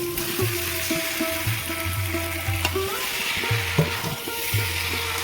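Jackfruit curry ingredients fry in a pan, a constant bright sizzle broken by repeated scraping, clattering strokes of a spoon stirring at a steady rhythm, close and alone without talk.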